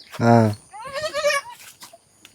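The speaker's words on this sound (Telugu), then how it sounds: "ఇంకే నాలుగు మేకలే" Goats kept by a tribal household in an Andhra forest village give two close, loud bleats in quick succession, the first strong and wavering, the second shorter and shakier.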